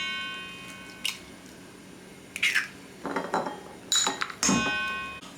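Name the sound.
cracking five eggs into a bowl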